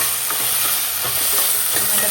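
Tomatoes frying in a hot pan give a steady, loud sizzle and hiss throughout, with faint stirring scrapes underneath and no voices.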